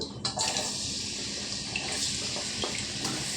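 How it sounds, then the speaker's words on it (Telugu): Chopped onions are dropped into heated oil for a brinjal and drumstick biryani khatta and fry with a steady, fairly quiet sizzle and hiss that holds evenly throughout, with no voices. "నూనె అయితే వేడెక్కిందండి ఇప్పుడు మనం ముందుగా కోసుకున్న ఉల్లిపాయలు వేసుకుందాం"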